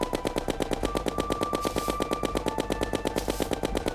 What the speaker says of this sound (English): So I'm using meteor bullets, which bounce. By firing them straight up into the air like this